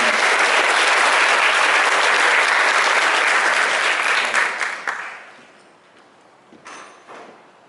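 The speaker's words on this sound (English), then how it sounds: "So please give them a round of applause" A crowd at a middle school eighth-grade awards ceremony breaks into loud, sustained applause for a robot design prize, holding steady before fading to scattered claps and a brief late flurry.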